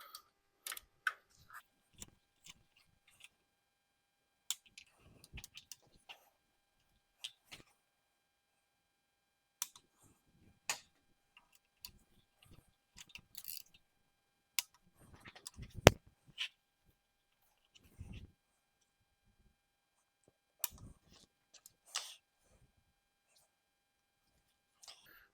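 Sharp mechanical clicks from a torque wrench tightening head bolts on a 6.0 Powerstroke diesel engine during a head installation, heard as scattered, irregular close ticks with quiet gaps between them.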